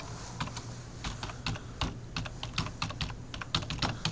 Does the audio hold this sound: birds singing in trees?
no